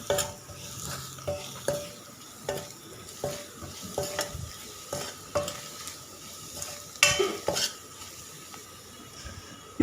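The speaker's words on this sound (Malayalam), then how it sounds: "മസാലയുടെ പച്ചമണം മാറുന്നത് വരെ ഇളക്കി കൊടുക്കാവുന്നതാണ്." Masala frying in a pan for kakka (clam meat) fry, stirred with a spoon: soft, steady sizzling under repeated light scraping and tapping strokes against the pan, fairly quiet and close, without talk.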